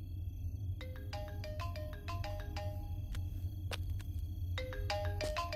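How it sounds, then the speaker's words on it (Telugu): A mobile phone plays a melodic electronic ringtone of quick repeated note patterns, fairly faint and steady over a low background hum, with no voices. "sir me phone మోగుతోంది"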